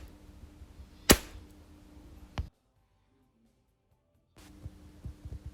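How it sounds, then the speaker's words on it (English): A single sharp crack of an Umarex Gauntlet air rifle firing pellets at a 10-yard target, followed by a brief smaller click, then a stretch of silence before faint handling noise returns. "This is shot with the Umarex Gauntlet at 10 yards."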